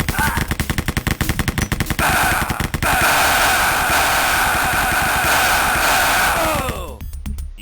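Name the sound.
gunfire in the video game Wolfenstein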